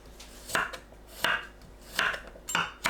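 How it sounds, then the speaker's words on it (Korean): A knife slices garlic into thin pieces on a cutting board, four sharp, evenly spaced chops about three-quarters of a second apart, close and clear with no talking. "마늘은 편으로 썰어주세요."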